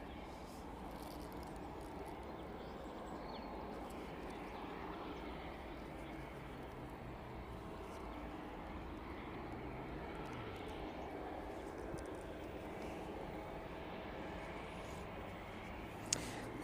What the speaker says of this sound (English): Second 747 starting up here in the distance.